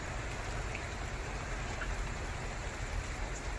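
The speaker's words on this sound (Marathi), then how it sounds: "आणि पाऊस लागत आहे बघा, पाऊस येत." Steady rain falls on surfaces around a rural home, an even dense patter without a break.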